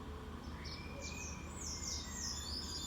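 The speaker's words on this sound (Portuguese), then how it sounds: "The green birds." Green parrots chirp and tweet in a scattered, bright chorus from a moderate distance, with short high calls repeating over steady low background rumble; no talk during the calls.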